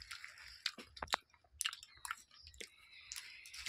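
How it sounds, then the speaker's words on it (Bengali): Close, wet chewing of food: irregular crunchy bites and smacking mouth sounds, quiet and intimate, with no talking. "আমি এখানে বসে খাচ্ছি, সত্যি কি টেস্ট লাগছে গো"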